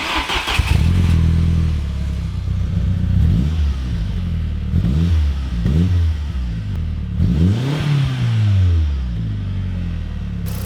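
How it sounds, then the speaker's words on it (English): A VW Golf MK4 engine cranks and catches, then revs up and down through several rising and falling bursts before settling into a rough idle, close and loud. "we were about to start the car up"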